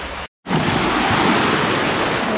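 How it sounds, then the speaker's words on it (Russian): Mediterranean beach surf: a steady, loud wash of breaking waves and wind noise close to the microphone after a brief dropout, with no talking. "И вот тут пляж."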